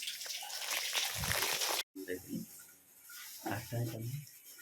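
Tap water runs with a steady, close hiss that stops abruptly, followed by people talking against a quieter background.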